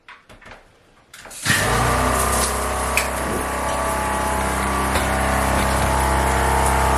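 After a few soft knocks, an off-grid outdoor shower bursts on and a pump starts, sending a loud, steady spray of water with a low motor drone underneath that continues unbroken to the end.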